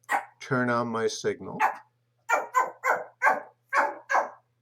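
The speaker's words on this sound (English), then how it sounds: "Sorry about my dog barking." A dog barking indoors in a short burst of about six sharp, evenly spaced barks, close and loud, after a person speaks briefly.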